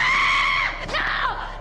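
A person screams in one loud, close, high sustained cry that breaks and wavers near the middle before trailing off at the end.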